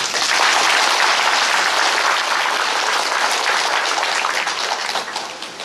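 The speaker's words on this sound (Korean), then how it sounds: "박수 보내드립니다." Loud, dense applause from a gathering of a clan fellowship society at Sosu Seowon, a continuous wash of many hands clapping close by that holds steady and eases slightly at the end, with no talking.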